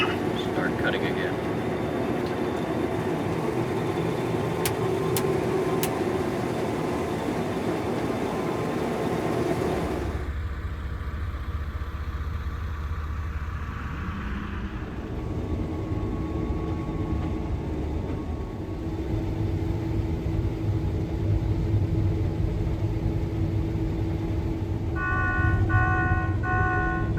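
A combine harvester cutting a field crop, its engine and machinery holding a steady, loud mechanical drone for the whole stretch, with the tone shifting partway through and a voice talking over it.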